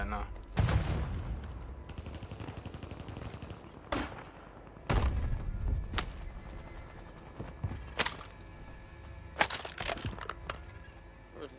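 Sharp sniper rifle shots ring out in Warzone 3 play: several loud, isolated cracks spaced a few seconds apart, with game sounds and someone talking between them.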